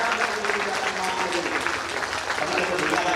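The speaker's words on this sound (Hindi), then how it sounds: "आइए सभी लोग खूब जोर से ताली" An audience at a Ram Katha religious discourse claps hard together, a dense, loud, continuous burst of applause that fills the hall, with a voice faintly underneath.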